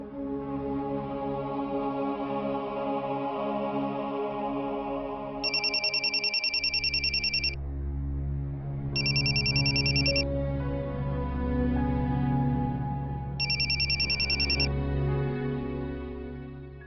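A phone ringtone rings in three separate bursts of a bright, repeating electronic tone over a steady low hum and background music.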